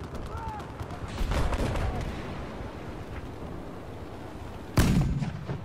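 A helicopter in a video game fires its old-timey cannon, heavy booming reports landing over a constant engine drone, one big blast near the end standing out loud and close, with a voice speaking underneath.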